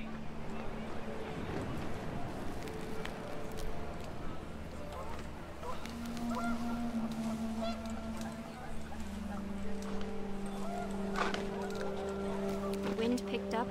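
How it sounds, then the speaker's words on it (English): Panicked geese honk during a windy storm in the What Remains of Edith Finch video game, scattered honks over a steady low rumble of wind, fairly faint under a continuous droning bed. "The wind picked up and panicked geese appeared and quickly went."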